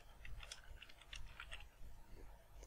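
Quick bursts of keystrokes on a computer keyboard, light clicky taps in an uneven rhythm, close and fairly quiet, with nobody speaking.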